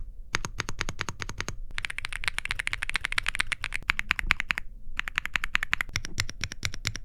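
Rapid typing on a wireless mechanical keyboard, a Wilmier SK75, a steady stream of crisp clacky keystrokes with brief pauses between bursts, close and fairly loud.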